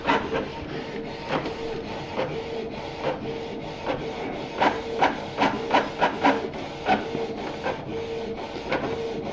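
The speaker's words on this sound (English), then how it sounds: "printing out a test page that's supposed to be for black ink" A Canon printer with a refilled PG-245 black ink cartridge prints a black ink test page, its print head sweeping back and forth in a steady run of close, rhythmic whirring passes with soft clicks, and no voices.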